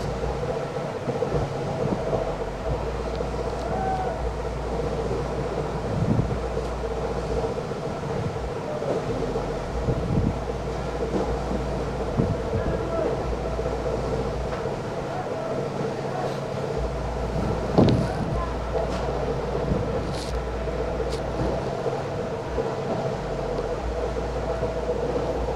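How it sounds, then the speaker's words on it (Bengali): A hydraulic machine runs steadily, a continuous low mechanical drone with a faint rattle and a few soft knocks throughout, and no voices. "দেখেন হাইড্রোলিক মেশিন।"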